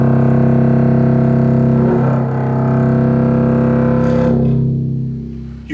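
A low C bowed on a double bass strung with D'Addario Helicore Orchestral strings sounds as a deep, resonant sustained tone with rich overtones and audible bow changes, heard alone and loud throughout.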